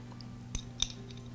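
Two quick, faint metallic clinks sound against a quiet hum while a 10mm nut is removed from the pinion gear of a DeWALT angle grinder under repair.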